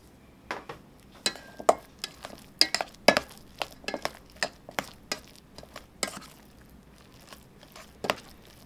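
Boiled plantains are mashed with butter and salt for Dominican mangu, giving a quiet series of irregular close thuds and clinks of a utensil against a bowl, with no talk.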